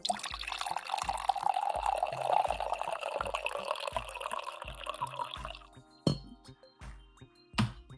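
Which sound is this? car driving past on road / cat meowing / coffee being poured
coffee being poured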